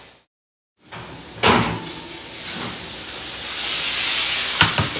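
An oven door shuts with a short thump as a stuffed chicken goes in to roast, followed by a steady hiss from the oven and a couple more faint knocks.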